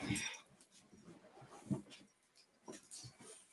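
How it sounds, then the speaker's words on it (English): A dog barks and whimpers somewhere in the background, a few short bursts spaced apart over low room noise, faint and fairly distant. "So if you ever hear barking in the back of my videos, it's probably him"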